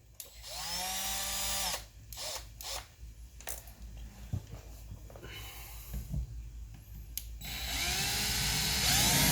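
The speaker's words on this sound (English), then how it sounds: "chamfering tool. Just goes in there, kind of works like a drill" A chamfering tool whines up and runs in bursts, grinding an angled edge into metal on a Camaro part with shifting pitch, stopping and starting across the clip and ending in a sustained loud run.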